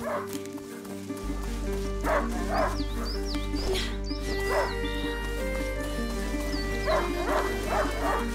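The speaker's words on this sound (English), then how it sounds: "A hunting dog is not supposed to lose its hunter." A hunting dog in the video game A Plague Tale: Innocence barks and yips repeatedly in short bursts over a steady low hum and game ambience, with a few whimpering cries, moderately close, no speech.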